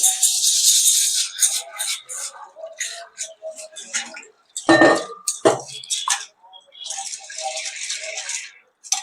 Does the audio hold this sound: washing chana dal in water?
yes